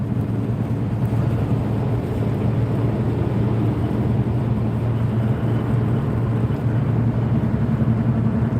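Heavy traffic of cars and trucks jams a double-decked roadway, a continuous low, dense rumble of idling and creeping engines that stays steady and fairly loud throughout, with no voices.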